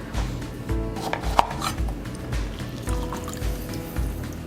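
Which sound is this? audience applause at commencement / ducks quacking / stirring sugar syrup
stirring sugar syrup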